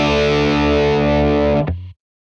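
A Gibson Les Paul electric guitar rings out one thick, heavily overdriven sustained chord through a captured 1966 Fender Blackface Bassman on a dimed warm setting, loud and steady before a quick choke and abrupt cutoff.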